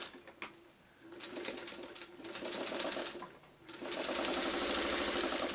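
A sewing machine stitches quilt block fabric in close, loud bursts, its rapid needle chatter starting and stopping, speeding up into a sustained whirring run at the end.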